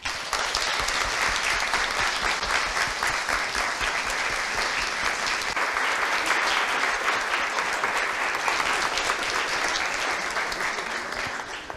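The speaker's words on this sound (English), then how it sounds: "join me, please, in a big round of applause for them all" At an end-of-year talks event, an audience gives a long, loud round of applause, a dense steady clapping that holds for about twelve seconds before easing slightly at the end.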